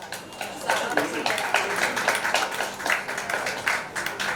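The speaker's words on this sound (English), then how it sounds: "Can we please get a round of applause?" Audience applause at a book launch event in Paris-themed celebration, a steady patter of clapping hands filling the room with dense, continuous claps over a few seconds, fairly close and even in loudness.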